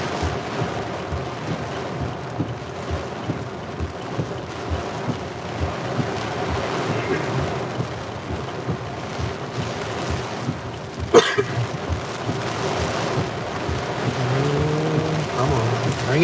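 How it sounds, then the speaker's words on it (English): Heavy rain pours steadily during a Pennsylvania thunderstorm, a dense continuous wash of noise with a sharp crack partway through and a brief voice near the end. "Downpouring right now."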